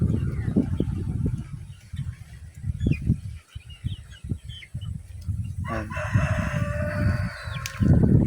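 Roosters crow and hens cluck repeatedly in a farmyard, with a long crow rising near the end over steady background noise.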